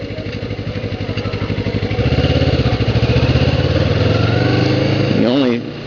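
Kawasaki Ninja 650R motorcycle on the freeway, its engine droning steadily and rising slightly in pitch mid-clip, with a brief shift in tone near the end, close and loud, with faint talking underneath.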